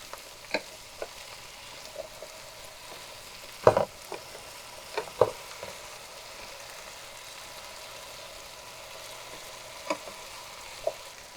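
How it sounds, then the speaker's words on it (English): Potato cubes fry with garlic in a pan for a vegan Persian eggplant dish, giving a faint, low sizzle broken by a few sharp spatula clicks and scrapes spaced irregularly, with no talking. "Couple minutes after garlic, you add your potato."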